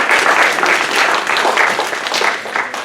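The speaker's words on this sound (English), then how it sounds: "Let's give them a round of applause." An audience at a demonstration debate claps steadily for the debaters, a dense, loud, even round of applause that fills the short stretch without a break.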